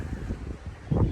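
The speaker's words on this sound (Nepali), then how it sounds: "कस्तो हावा चलेको, आवाज नि कस्तो उस आइरह होला है" Wind blows outdoors in Lamjung, Nepal, a low buffeting rumble across the microphone that swells briefly near the end.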